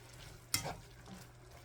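Chopped sweet onions being stirred in a hot pan for an egg roll in a bowl, a low steady sizzle broken by one quick scraping stir, close and fairly quiet.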